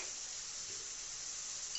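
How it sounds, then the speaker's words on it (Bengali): Vegetables (potato and brinjal) fry in a pan, giving a soft, steady sizzle and hiss throughout, faint and even with no talking. "ভালো করে ওটাকে ভাজা হবে, দেখতেই পাচ্ছেন ভাজা হচ্ছে সব রকম দিয়ে।"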